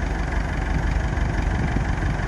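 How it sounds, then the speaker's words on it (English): A tractor engine runs steadily at close range during drilling of holes for shade-sail connecting fittings, a continuous low rumbling drone with a slight knock and no talking. "up on the tractor, just drilling in the holes"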